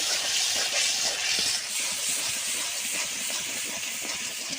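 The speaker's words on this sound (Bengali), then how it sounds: "মশলাটাকে আমি সুন্দরভাবে কষিয়ে নেব।" Spice paste with salt and a little water sizzles in a pan with a dense, continuous hiss and faint stirring sounds, close and even in loudness.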